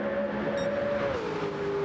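Race cars lap the Mount Panorama circuit down Conrod Straight, one engine note holding steady and then dropping as a car passes, loud and sustained with no voices.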